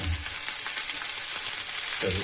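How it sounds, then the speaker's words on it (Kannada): Dried moringa leaves sizzle steadily in hot oil as a tempering for sprouted horse gram sambar, a loud, continuous crackling fry close to the pan, ending with a soft clank of a utensil. "ಒಗ್ಗರಣೆ ಸ್ವಲ್ಪ ಬಾಡಿಸ್ಕೊಂಡು"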